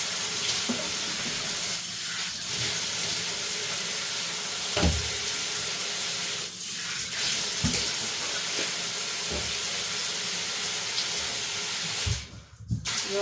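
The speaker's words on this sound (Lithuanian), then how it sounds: "Reik nuleist vandenį." Water runs steadily from a household tap into a sink, a constant full hiss lasting the whole stretch with a few soft knocks and clunks beneath it and a brief break near the end; nobody speaks.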